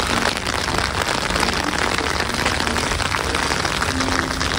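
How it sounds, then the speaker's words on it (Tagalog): Heavy rain pours steadily in Smoky Lake, Alberta, a dense continuous hiss of drops drumming on surfaces close by, loud and unbroken throughout. "Grabe yung ulan."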